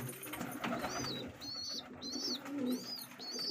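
Domestic pigeons coo softly inside their coop, a series of repeated rolling calls at an even rhythm over a faint background, fairly close and quiet.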